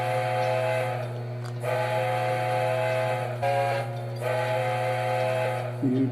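A model train's steam whistle, from a Lionel Vision Line 700E Hudson locomotive, sounds in repeated long tonal blasts with short gaps, over a constant low electrical hum.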